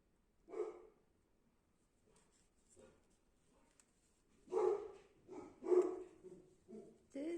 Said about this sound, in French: Désolée pour mon chien. Je pense que vous l'entendez.